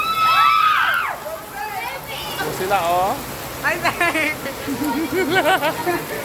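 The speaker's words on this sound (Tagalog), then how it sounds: "Lakas po ng ulan dito. Bahang-baha na po dito." Heavy rain falls on a flooded school grounds with water sloshing, a steady wash of rainfall running under excited children's voices and calls throughout.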